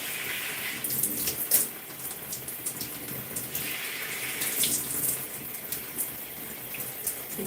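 Running water from a tap poured onto a section of curly hair during a pre-poo treatment, a steady broadband splash with brief louder gushes and soft crackling, close and continuous with no talking.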